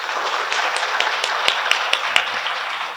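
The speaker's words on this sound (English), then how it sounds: "please give him a big applause again" An audience at a university forum applauds a speaker with a brief, dense patter of clapping at moderate distance, with a few sharper individual claps standing out.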